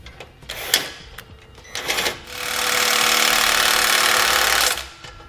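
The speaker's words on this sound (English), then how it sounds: "So I'm going to take a 9/16 socket and wrench and tighten those up all the way." A 9/16 socket and wrench tightens bolts on a Blue Ox base plate kit fitted to a 2018 Chevrolet Equinox: a few sharp metallic clicks, then a sustained rapid ratcheting whir lasting a couple of seconds, close and alone.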